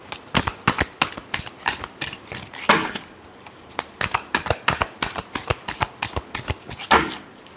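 Tarot cards are shuffled by hand close up, with a long run of quick, crisp riffling and slapping bursts in a loose, rapid rhythm and a couple of slightly fuller flutters.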